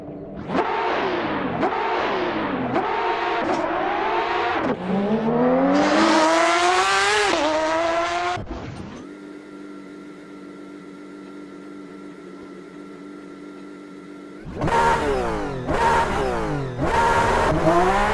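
A Porsche 911 RSR race car on a hot lap in a racing sim screams up through the gears in loud rising sweeps with sharp shifts, settles into a steady whining hum, then bursts back into hard acceleration.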